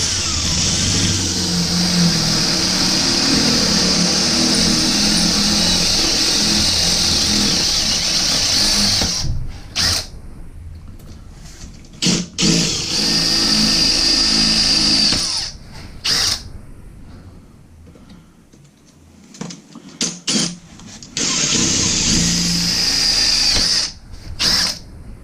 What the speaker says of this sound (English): let's drill the larger size hole now